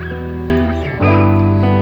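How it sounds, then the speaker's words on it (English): A dog barks and yips briefly inside an album track, mixed in with a steady sustained music bed, close and loud. "the dog"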